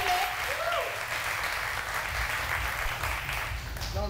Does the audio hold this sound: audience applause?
yes